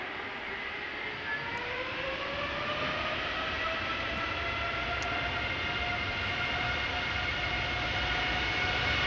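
A NetJets business jet taxiing toward the runway at Amsterdam Schiphol on a windy day, a steady distant turbine whine with rising and falling tones over broad continuous rumble and wind noise, with no talking.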